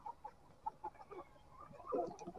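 Mía Sơn Tây chickens clucking in short, irregular bursts at close range, with a louder cluster of calls near the end and no talk.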